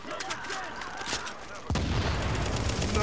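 Gunfire with incendiary rounds in The Division's Dark Zone: a few sharp shots early, then a dense, loud burst of rapid fire from the midpoint on.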